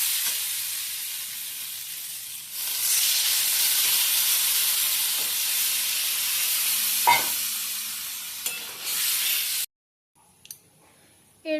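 Yam and potato cooked with spices hiss and sizzle in a pan, the sound swelling into a loud, steady steaming roar after a couple of seconds, with a few clinks before a sudden drop to near silence.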